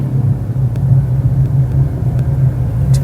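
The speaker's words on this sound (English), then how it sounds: "all I had to do was just tap the accelerator and the car just goes" Mercedes-Benz W212 E-Class facelift executive saloon (2013-2016) with its engine giving a steady, close, deep rumble that holds even throughout, with no voices.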